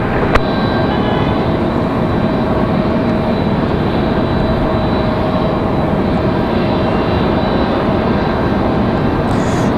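A jet airliner rumbles steadily on final approach to runway 23 right at Raleigh-Durham, a loud, continuous broadband roar with a faint tonal whine that holds through the whole stretch without a break.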